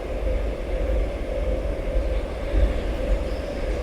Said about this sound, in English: We've got another train coming past us, heading off in the other direction.